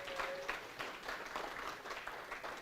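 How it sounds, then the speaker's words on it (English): Conference audience clapping: faint, steady applause from a crowd fills the whole stretch, with no voices on top. "Give him a clap."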